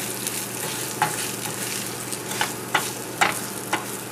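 A baked clam topping with oregano being stirred and mixed in a bowl: a soft continuous scraping texture punctuated by several sharper clicks of the utensil, close and alone without talk.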